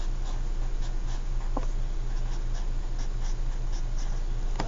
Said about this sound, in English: So you should maybe write it like this then.